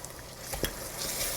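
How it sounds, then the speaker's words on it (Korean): Minced garlic and ginger fry in a pan of oil for keema curry, giving a soft, steady sizzle broken by a couple of quick spatula scrapes, close and fairly faint. "잘 볶아서 향이 골고루 퍼질 수 있도록 해주세요"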